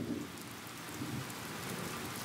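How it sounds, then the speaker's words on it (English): Steady rain falls, a dense, even hiss of drops on surfaces with no talk over it. "Today it's raining."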